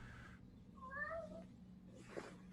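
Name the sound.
cat meowing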